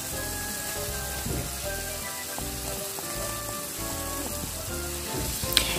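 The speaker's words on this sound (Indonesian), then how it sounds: "Setelah mendidih, masukkan ikan tongkol." Pieces of tongkol tuna simmer in a boiling rica-rica spice sauce, giving a continuous bubbling sizzle with small pops and crackles throughout.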